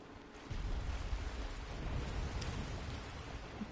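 Cannon explosion in Bloodborne, heard as a distant, low, rumbling boom that swells in and lingers as a sustained roar without talk.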